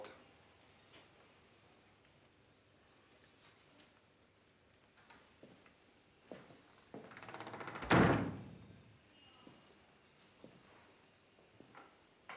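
A door shuts with one loud, close slam inside an office, standing out against a quiet room with faint footsteps and small knocks before and after.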